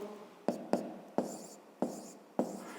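Pen or chalk writing out a maths expression, five or six separate crisp taps and short scratching strokes, close and fairly quiet, with no speech.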